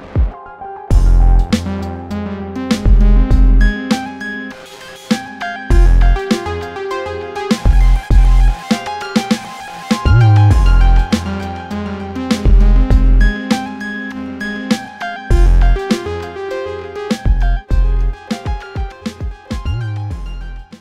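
Eurorack modular synthesizer rig plays a midrange melody over punchy, pulsing bass and percussive hits. The rhythmic electronic pattern is loud and steady for about twenty seconds, with no talking.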